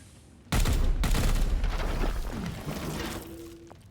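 Gunfire from Warhammer 40,000: Chaos Gate – Daemonhunters, a loud sudden burst of shots and crackling impacts that starts abruptly, then fades into a lingering rumble and a tonal hum.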